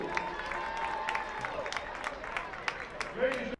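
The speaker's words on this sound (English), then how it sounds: "give a round of applause for all the seniors that are being honored tonight on senior night" A crowd at a high school football senior night claps steadily, distant and moderate, with scattered sharper claps and a few cheers over a bright, echoing stadium ambience.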